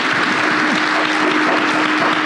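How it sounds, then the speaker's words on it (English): Dense, steady applause from a large audience at a cancer patient community session, a continuous roar of many hands clapping at close range throughout, with no pauses. "And one more big round of applause,"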